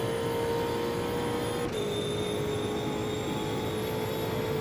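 Steady, droning engine note from an Ultima race car in the racing sim Automobilista at Spa, holding a constant high whine with a brief dip in pitch partway through, loud and uninterrupted.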